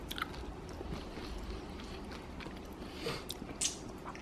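Crunchy Goldilocks lechon kawali, deep-fried pork, is bitten and chewed close up, with soft crunching and chewing sounds under a low background hum.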